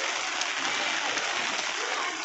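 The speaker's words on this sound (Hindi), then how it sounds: "लगातार 2 दिन से बारिश हो रही है" Steady, dense hiss of rain falling during a continuous downpour, with an even wash of sound and no breaks, heard from nearby under an open outdoor setting.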